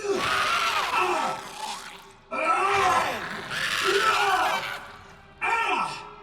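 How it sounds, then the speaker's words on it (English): Isaac Clarke, voiced by Gunnar Wright in the Dead Space Remake, lets out repeated strained, desperate yells and screams while stomping, four long ragged bursts separated by brief pauses, loud and close with no other talk. "The addition of these desperate yells and screams from Gunnar Wright just make the stomp complete"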